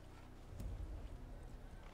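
Horse hooves clip-clopping in the Assassin's Creed video game, a soft, low run of thudding steps that swells briefly in the middle, heard faintly with a muffled background.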